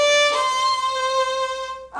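A short Gypsy Waltz phrase on violin played with a low second finger: a few smooth, sustained bowed notes heard up close and alone.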